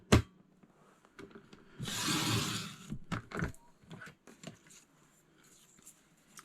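A paper trimmer blade slices through paper in one short, rasping cut of about a second, with faint clicks and rustles of paper handling before and after.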